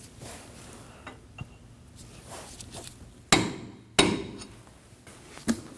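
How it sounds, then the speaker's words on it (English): Two sharp hammer strikes ring out close and loud, peening the axle nut into the axle notch on a 2003-2006 Subaru Baja, with faint clinks and workshop noise around them. "We're going to peen the axle nut so that it won't spin backwards."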